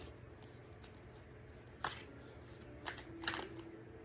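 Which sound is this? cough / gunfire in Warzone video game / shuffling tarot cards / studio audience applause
shuffling tarot cards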